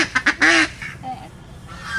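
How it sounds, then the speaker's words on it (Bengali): A domestic duck being caught for cooking lets out a few sharp, close quacks in quick succession, ending in one loud harsh squawk, followed by quieter rustling and fainter calls. "হাঁস ধরা হয়ে গেছে, এবার এই একটা হাঁস রান্না হবে"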